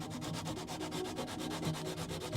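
Sandpaper rubs back and forth over hardened Milliput putty on a proton pack's cyclotron ring, a close, steady rasping in quick regular strokes with no voices.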